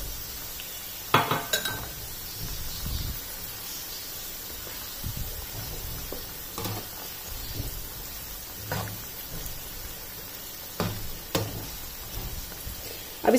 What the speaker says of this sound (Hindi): अब इस प्याज को सिर्फ इसमें 1 से 2 मिनट तक ही फ्राई करना है।